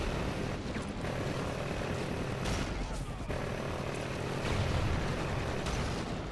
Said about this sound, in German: Ich kann den Hubschrauber nicht killen.